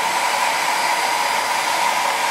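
Blow dryer running steadily to dry a broken kitchen counter repair made with ramen noodles, a loud, close, continuous whooshing whir with no talk.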